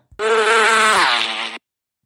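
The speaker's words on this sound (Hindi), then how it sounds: "अब भौरे ने गुनगुनाना शुरू किया" A bumblebee's steady, loud buzzing drone lasts well over a second close up, holding a rich tone that dips slightly in pitch toward the end, heard alone.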